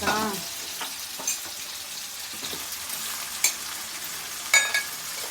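Onions frying in a pan over a village cooking fire, a steady close sizzle with a few sharp scrapes and clinks of stirring, no talking.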